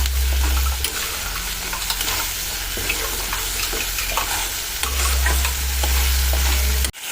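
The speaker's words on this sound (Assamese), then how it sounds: "এতিয়া এইখিনি কেঁচা গোন্ধটো গুচি যোৱালৈকে আমি ভাজি ল'ম।" Ground onion, dried chilli and garlic paste fries in a pan for a small fish curry, a continuous close sizzle broken by scattered scrapes and stirring clicks, with a brief knock at the end.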